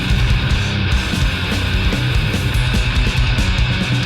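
Death metal with a dense, loud wall of distorted guitars and pounding drums that runs continuously without a break.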